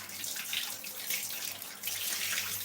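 Tap water runs steadily into a kitchen sink while dishes are washed after making dosa, a close, continuous hiss of flowing water with slight surges, no talking.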